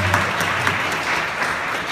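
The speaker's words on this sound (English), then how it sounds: "give yourselves a round of applause" Applause from a convention audience, a steady mass of clapping with a few sharper claps standing out, heard at moderate level with no voices on top.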